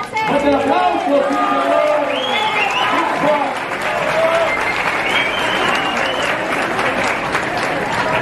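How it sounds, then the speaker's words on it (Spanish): Lively applause and cheering from the audience at a presentation, rising as someone is called to the stage and holding steady, with voices shouting over the clapping. "¡Que pase! ¡Aplausos!"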